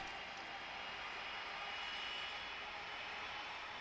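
United airliner jet engines in Tower Simulator 3 throttle up with a broad, steady roar, heard at a distance and holding at an even, faint level throughout.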